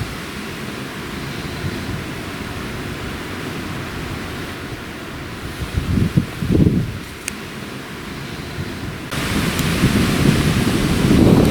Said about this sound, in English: Typically within 10 minutes of sitting in the high seat it starts raining. It's just starting to spit